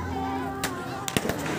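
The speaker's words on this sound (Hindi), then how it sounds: "बच्चा पार्टी जो है पटाखा बजा रहा है" Children set off firecrackers during Chhath Puja at a riverside ghat, giving two or three sharp cracks in quick succession against a steady hum and background voices.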